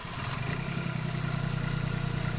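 Diesel engine of a Hyundai Grand i10 idling after a timing chain replacement, a steady low rumble with a fine even clatter running throughout, close and continuous with no talk.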